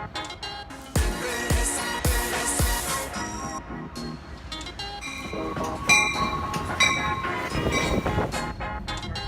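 A train rumbles along with heavy rhythmic clunks at first, then a steady mechanical roar with squeals and clatter, loud and close.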